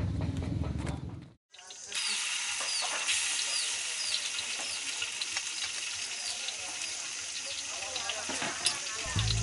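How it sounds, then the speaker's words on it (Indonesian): A ground spice paste sautés in a pan for Lombok gerotok, a spicy savoury dish, giving a loud, continuous sizzle and hiss with stirring that runs for several seconds after a brief pause. "bumbu rempah yang telah dihaluskan, ditumis kemudian dicampur atau ditambahkan bahan-bahan lainnya untuk dimasak bersama"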